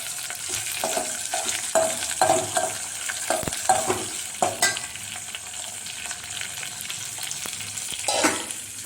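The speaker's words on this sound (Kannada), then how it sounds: "ಇವಾಗ ಸ್ವಲ್ಪ ಹಿಂಗೆ ಹಾಕ್ತೀನಿ. ಇದು ಸ್ವಲ್ಪ ಚೆನ್ನಾಗಿ ಫ್ರೈ ಆಗಲಿ" Sprouted-gram and vegetable curry ingredients fry and sizzle in a pan, with a steady crackling hiss broken by several louder stirring scrapes and clatters of a spoon against the pan, no voices.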